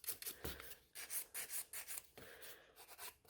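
Gel nails being filed with a nail file during a salon gel rebalance, quick close rasping strokes in short repeated bursts, quiet and without talk.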